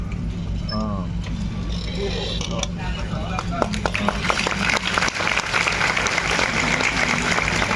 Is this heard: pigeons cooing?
no